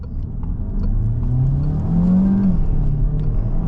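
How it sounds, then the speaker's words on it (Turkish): A Peugeot 3008 with the 1.6 PureTech engine and EAT8 automatic pulls hard at full throttle, a steady mid-pitched engine drone rising in pitch through a gear, heard from inside the cabin with road rumble and no talking. "Dip gazdayım."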